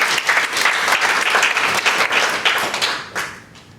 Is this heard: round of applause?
yes